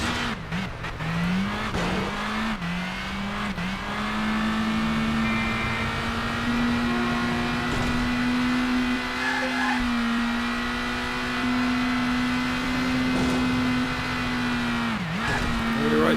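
A car engine races in The Italian Job: L.A. Heist on PS2, holding a loud, sustained high rev with small pitch shifts and brief dips as gears change.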